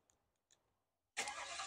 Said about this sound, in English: Nothing growls like a Mustang.